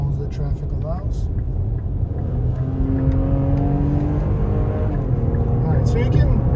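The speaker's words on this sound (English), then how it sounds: "you can hear how it accelerates. The engine has this nice note" A 2022 Nissan Pathfinder accelerates in sport mode, its engine note rising steadily in pitch over road rumble, heard from inside the cabin.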